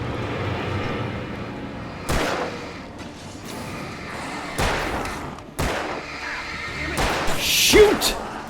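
Gunfire in the horror game Alan Wake Remastered: several sharp, loud shots spaced a second or two apart, ringing out over a dim, rumbling backdrop with a voice talking in between.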